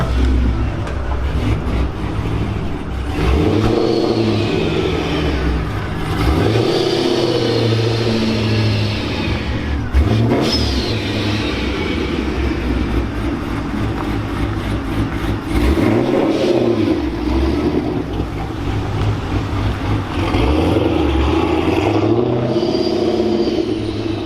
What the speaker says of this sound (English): our 426 is on the dyno